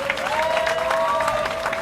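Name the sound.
audience applause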